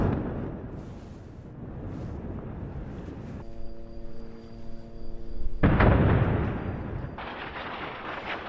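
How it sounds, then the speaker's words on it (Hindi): Explosions from Israeli airstrikes on Beirut boom in bursts amid rumbling noise, with a loud blast near the middle and heavy rolling impacts that fade and recur. "धमाकों की आवाज से पूरा बेरूत दहल उठा।"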